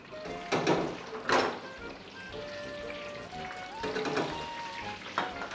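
Vegetables with three-colour bell peppers tossed in a pan bring bursts of frying crackle and scraping stir strokes, plus a faint tone in the background, all at moderate volume.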